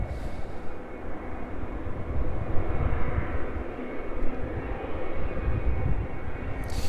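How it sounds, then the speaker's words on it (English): A Ryanair jet airliner taxis at East Midlands Airport, a steady, moderately distant engine roar with broadband rumble holding constant throughout, no voices. "as the Ryanair vacates from the apron onto the taxiway, there it goes, continuing down towards the start of runway 27"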